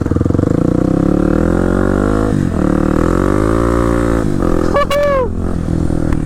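Kawasaki KLX300 supermoto fitted with a Big Gun exhaust, droning loud and close at steady revs with smooth rises and dips in pitch, and a brief voice breaking in near the end.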